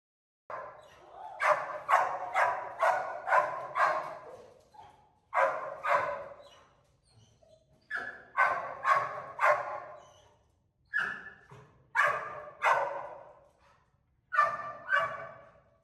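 A search dog candidate barks and yips in eager bursts while fixated on a cookie, loud and close, with short pauses between volleys and a few whiny vocalizations.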